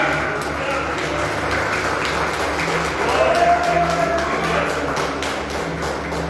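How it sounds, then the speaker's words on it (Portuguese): A church congregation applauds at an Easter Sunday service, a dense, steady wash of many hands clapping that swells slightly midway, with voices mixed into the noise. "Dê para Jesus uma linda salva de palmas para o nosso Cordeiro Pascual"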